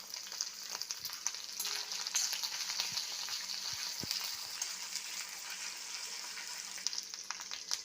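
Curry leaves sizzling in hot oil in a pan, a steady soft crackle and hiss with occasional small pops, fairly quiet and without talk.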